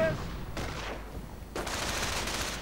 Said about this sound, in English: And the MG-42 opens up.